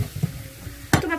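Chopped parsley, carrots and celery stirred in a hot pan, giving a soft sizzle with a few scraping knocks of a utensil against the pan and one sharper clatter near the end.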